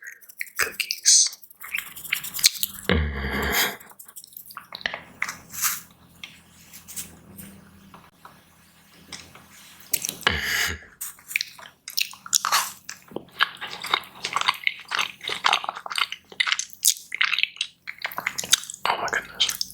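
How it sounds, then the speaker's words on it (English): Close-up bites and chewing of frosted Christmas sugar cookies, with soft crunchy bites near 3 and 10 seconds followed by steady, wet mouth sounds and mastication up close, no talking. "ASMR eating frosted sugar cookies."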